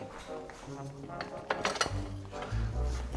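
Salsa and other ingredients for slow cooker pulled pork are mixed by hand in the pot, giving close clinks, scrapes and wet stirring sounds that grow busier and louder toward the end.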